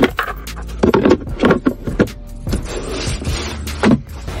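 Keys and coins set down and shuffled in the removable center console tray of a 2024 Ford Everest Titanium+ 4x4, close-up clinks and rattles in several short bursts with handling rubs between.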